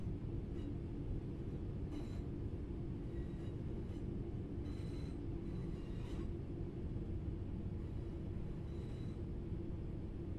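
A train running in the Train Sim World 4 video game on PS5 gives a steady, low, rolling rumble with occasional faint clanks from the wagons, quiet and uninterrupted.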